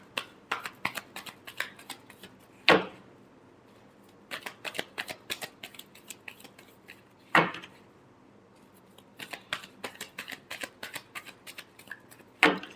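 Tarot cards are shuffled by hand, close and clear. Quick flurries of soft flicking riffles repeat in clusters, each set ending in a sharp clap as the deck is squared, with quiet gaps between.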